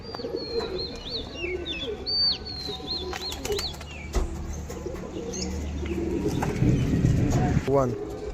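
An adult pigeon coos in repeated soft, rolling calls close by, while other birds chirp and low voices murmur in the background.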